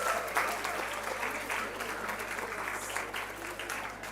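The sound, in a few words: audience applause welcoming a guest speaker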